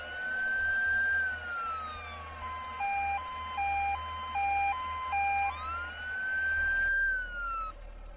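A video game ambulance siren, loud and synthetic, sweeping in a long wail, then switching to a rapid alternating two-tone hi-lo pattern before wailing again.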